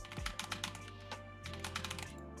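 Rapid, close clicking of computer keyboard keys comes in uneven bursts of taps, with a steady electronic hum underneath and no talking.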